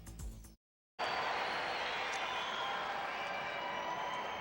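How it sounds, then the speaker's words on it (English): Sellout hockey crowd inside Maple Leaf Gardens on a Saturday night in 1992, a broad steady roar of murmur and cheering filling the arena after a brief cut of silence. "Once again, a sellout crowd at Maple Leaf Gardens on this Saturday night"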